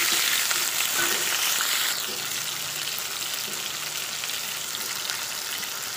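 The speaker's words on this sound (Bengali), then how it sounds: "এবার কড়াইয়ে তেল দিয়ে ইঁচড়টাকে ভেজে নেবো লাল লাল করে।" Pieces of boiled jackfruit frying in oil in a wok, a close, even sizzle and crackle that eases slightly after the first couple of seconds and carries on steadily.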